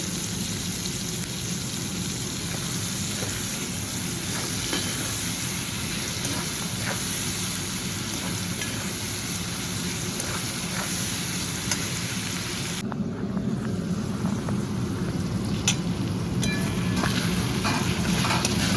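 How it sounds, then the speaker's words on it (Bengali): Onions and tomatoes fry in a pan for a chicken kosa, giving a steady, close sizzle and crackle that runs unbroken throughout with no voices over it. "পেঁয়াজ টমেটো আমার প্রায় ভাজা হয়ে গেছে"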